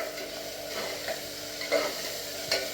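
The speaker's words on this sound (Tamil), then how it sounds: "வெங்காயத்தை இப்போ நல்லா வதக்கி விட்டுடலாம்." Sliced onions, salted, sauté in a pan for chicken biryani, with a steady close sizzle and a few scraping stirs of the spatula.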